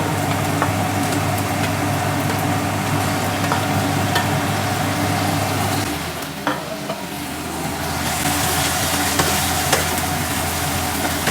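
Chicken stir-frying in a pan for pansit bihon, a loud, close, steady sizzle with spatula scraping and stirring, briefly dipping midway before the frying swells again; no one speaks.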